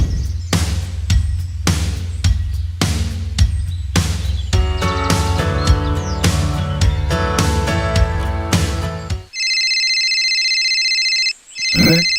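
A mobile phone ringtone plays loud and close as a repeating electronic melody, then switches to a sustained shrill tone for the last few seconds, with no talking.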